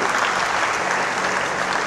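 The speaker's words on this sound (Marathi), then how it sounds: "त्यांच्यासाठी एकदा जोरदार टाळ्या होत्या" An audience at a motivational guidance seminar claps loudly and steadily, a dense wash of applause that holds at the same level throughout.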